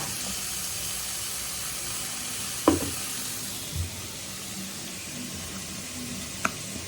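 Tomatoes and ground masala sauté in a pan for mutton kulambu, a steady close sizzle and hiss with a few sharp clinks and scrapes of a spoon against the pan.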